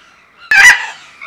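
Giant red macaws at Yangon Zoo give a single loud, harsh squawk of about a quarter second, close and piercing, followed by a fading tail and quieter background calls.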